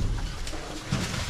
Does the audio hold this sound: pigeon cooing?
yes